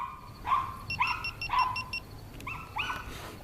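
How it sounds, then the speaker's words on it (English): A neighbor's dog barks a handful of times at a moderate distance, short sharp barks with slight whimpering pitch, spaced irregularly against a quiet outdoor background. "Neighbor's dog, sorry."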